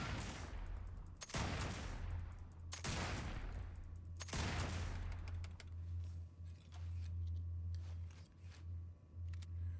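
Rapid bursts of quad weapon gunfire in a video game, several loud crackling volleys in the first half, then a steady low engine-like drone with scattered clicks and softer shots.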